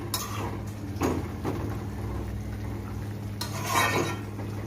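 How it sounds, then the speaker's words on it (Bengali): Pieces of fried fish go into a cooking pan of fish curry with softened potatoes, giving a few close clinks and scrapes of utensils against metal over a low steady hum. "ভেজে রাখা মাছগুলো দিয়ে দিলাম।"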